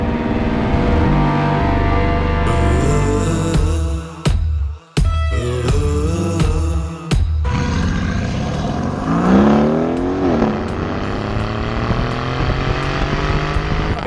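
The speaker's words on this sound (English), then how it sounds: "what possible better location could there be for test driving this, the new Aston Martin Vantage." A 2018 Aston Martin Vantage engine on a test drive through the English countryside, loud and close, holding a steady growl, then blipping and rising in pitch through revving gear changes with a few sharp cuts between.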